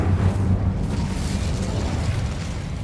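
The Incendio fire spell being cast in Hogwarts Legacy, a dense, steady roaring whoosh of flame with low rumble that holds at a fairly loud level for a few seconds.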